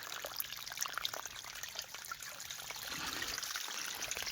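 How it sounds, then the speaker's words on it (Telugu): Water from a motor pump pours and trickles steadily over a broad hiss while irrigating a maize field, growing slightly fuller toward the end, with no voices. "సో నీళ్ళు అయితే వస్తున్నాయి ఫ్రెండ్స్ మోటార్ అయితే వేసినాం"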